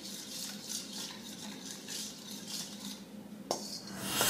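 Steady clinking and scraping of a utensil stirring in a bowl, a continuous close rattle with a sharper knock near the end.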